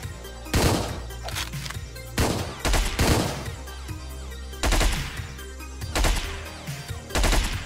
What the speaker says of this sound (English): Is that a silence pistol out there?